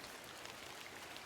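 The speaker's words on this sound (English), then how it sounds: "I'm in the middle of nowhere in the rain." Rain falls steadily in the video game The Excavation of Hob's Barrow, a soft, continuous hiss of drops that stays faint and even throughout.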